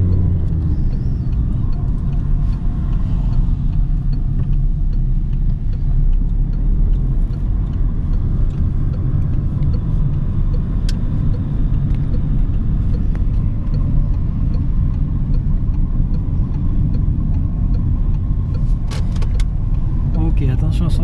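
A car driving on a road during a driving lesson gives a loud, steady interior rumble of engine and road noise that lasts throughout.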